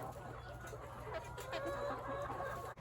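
Chickens cluck steadily near a storefront pen on a winter farm, several birds overlapping in a busy, close chorus with a low steady hum beneath.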